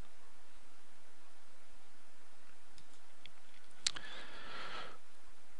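A single key tapped on a computer keyboard, a faint, brief click standing out once against quiet background hiss, with a few softer ticks around it.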